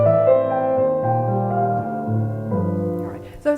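A simple piano melody built from the letters of Kingwood plays as steady single notes with sustained tones, clear and close, running alone for a few seconds.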